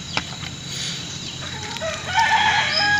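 Free-range village chickens at an outdoor cooking spot, with a rooster crowing and hens clucking in a steady, moderately near farmyard chorus. Several bright calls rise over a low background rumble.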